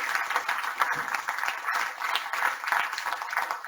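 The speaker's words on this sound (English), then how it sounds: "What do you call it? Round of applause?" A small tech meetup audience at a Python packaging talk claps steadily for a few seconds, a dense, moderately quiet patter of many hands.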